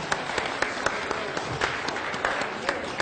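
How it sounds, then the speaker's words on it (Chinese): A studio audience breaks into dense, steady applause to welcome a woman guest onto the stage of a health talk show, with sharp individual claps standing out through the continuous crowd clapping. "来，掌声欢迎您。"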